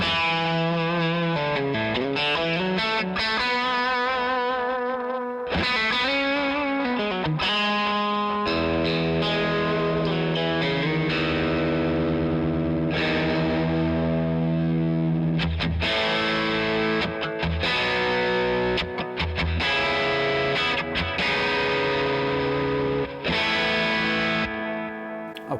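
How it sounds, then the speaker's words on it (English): An electric guitar solo driven through a cranked Fender Deluxe Reverb with only amp overdrive, loud and continuous, with bending sustained notes, quick runs and gritty distortion ringing into echo. "so what you're hearing is all amp overdrive"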